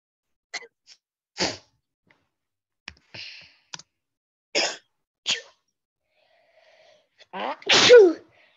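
A sharp, loud sneeze bursts out near the end, after several brief clicks and short throat noises spaced across an otherwise quiet stretch.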